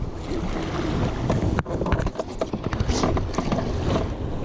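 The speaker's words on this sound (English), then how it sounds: "Got us some rapids. Not too bad, but we're gonna go through them." A small fishing boat runs through mild rapids on the Menominee River. The water rushes and splashes loudly, with choppy bumps and gusts of wind noise across the microphone.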